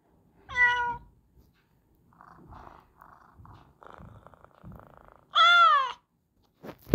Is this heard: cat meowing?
yes